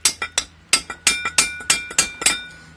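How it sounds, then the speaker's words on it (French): A chisel struck with a hammer to knock the ring off a rear brake disc on a Volkswagen Golf 3, giving about a dozen sharp metallic clinks in an uneven rhythm, close and clear. "Alors là, j'utilise un burin."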